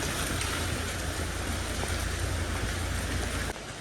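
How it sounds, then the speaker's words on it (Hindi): Heavy rain pours steadily in Manali, a dense close hiss of drops on surfaces that stays loud throughout before dipping slightly at the end. "तेज़ हो रही बारिश"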